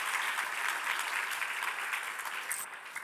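A church congregation at a worship service applauds, a dense, steady wash of clapping that fills the room for about three seconds without a break.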